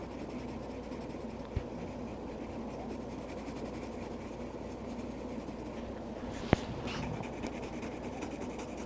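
A pencil drawing on paper for a kids' mushroom house lesson, a steady soft scratchy scribble running throughout under faint background hiss, with a couple of brief taps.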